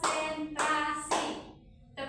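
A classroom of children claps a patterned response to a teacher's cue: four quick groups of hand claps, close and clear, with a short pause between each group.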